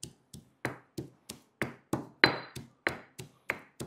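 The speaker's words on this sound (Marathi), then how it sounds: "डाळ जी आहे ती फक्त अशी अर्धवट कुटून घ्यायची." Lentils are pounded coarsely for a radish koshimbir salad. About a dozen sharp, evenly spaced thuds come close and clear at a steady rhythm, with no voices.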